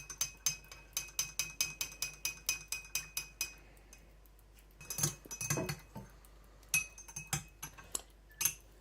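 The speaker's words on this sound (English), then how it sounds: "And we stir it in." Spoon stirring lemon or sugar into avocado tea in a cup, a quick run of steady metallic clinks against the glass, then a few slower scattered taps, close and fairly quiet.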